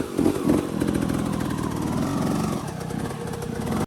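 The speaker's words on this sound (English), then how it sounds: "listen to the sound of my engine. Very high revs to initiate the movement" A motorcycle engine buzzes at high revs on slippery rocks, loud and close, holding a strained, raspy tone before dropping off abruptly.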